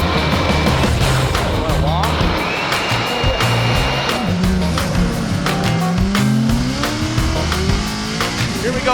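Formula Drift race cars drifting at Road Atlanta, engines roaring and tires squealing in long rising wails, loud and close with a commentator talking over the action.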